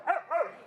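An American Bulldog gives a single short, loud, close bark with a rising then falling tone, lasting under a second.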